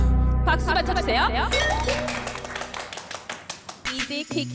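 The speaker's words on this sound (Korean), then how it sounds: "박수! 박수만 쳐주세요." An audience claps hands at a manager audition on a variety show, the claps starting under music and voices then ringing out as sharp, separate strikes toward the end.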